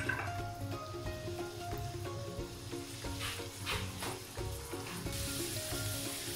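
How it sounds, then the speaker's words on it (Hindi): Onions frying in a pan for lime chicken, a soft sizzle with occasional stirring scrapes, partly masked by background music with tonal notes. "अनियन फ्राई हो रहे हैं, बहुत मज़ेदार सी खुशबू आ रही है इस टाइम।"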